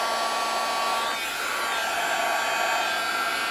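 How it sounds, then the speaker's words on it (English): A heat tool blows steadily at close range while warming up before embossing powder is melted on a Christmas tag, a continuous loud whirring rush with a slight dip in pitch partway through. "now I need my heat tool for this, so I'm going to heat it up for just a second,"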